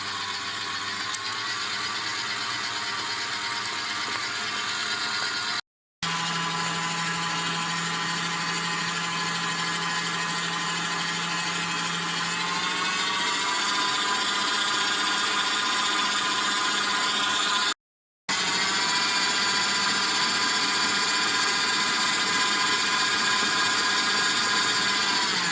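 An electric mixer whirs loud and fast, steady and continuous, beating pastry cream for a Paris-Brest into an emulsion, with two brief cut-outs along the way.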